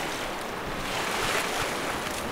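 Water rushes up in the first-person shooter Black Mesa, a steady, moderately quiet whooshing wash with a slight swell partway through and no speech.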